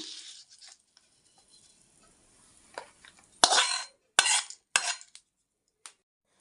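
Hot tempering of popped mustard seeds and curry leaves tipped into gourd chutney, giving a few sharp sizzling bursts and spatters followed by quieter crackles and a faint clink, close and alone.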